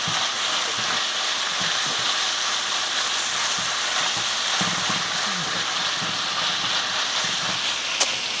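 Bacon frying in a pan gives a steady, dense sizzle and crackle, loud and close throughout, with a soft clink near the end.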